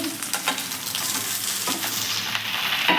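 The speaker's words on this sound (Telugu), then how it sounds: "మిక్స్ చేసుకోండి. అవి బాగా మగ్గే వరకు వేయించుకుంటూనే ఉండండి." Brinjal, onion and tomato frying in oil in a pan produce a loud, steady crackling sizzle with faint stirring scrapes and no talking.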